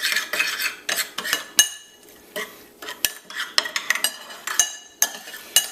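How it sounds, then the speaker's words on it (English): Shrimp seasoning and black pepper are mixed in a bowl: a run of quick metallic clinks and scrapes of a utensil against the bowl in irregular bursts, close and fairly loud. "And now I'm just gonna mix this all together here."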